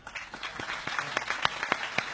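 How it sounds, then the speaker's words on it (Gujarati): Audience applause in tribute to the poet Jhaverchand Meghani: a steady, dense patter of many hands clapping at moderate loudness, with a few sharper individual claps standing out, and no talk over it. "તાળીઓ આપણે ઝવેરચંદ મેઘાણી માટે પણ વગાડી"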